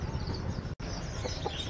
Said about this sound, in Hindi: और ये एक कंधारी मुर्गा है, जोड़ा है